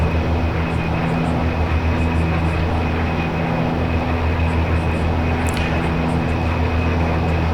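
An OV-10A Bronco's twin propeller engines drone steadily in a DCS flight simulator cockpit, a loud, constant hum with faint high tones, no speech over it.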